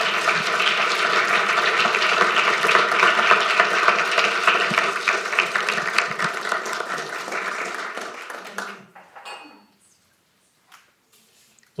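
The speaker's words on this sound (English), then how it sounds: "So let's give a round of applause one more time." An audience applauds after the final question at a talk on digital replicas of traditional Japanese art. Loud, dense clapping goes on for about eight seconds, then thins and dies away into near silence.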